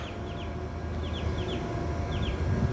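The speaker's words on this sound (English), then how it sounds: "there's a bird. But you hear it," Short chirping bird calls repeat in quick pairs over steady outdoor background noise among palm trees in South Beach, fairly faint and somewhat distant.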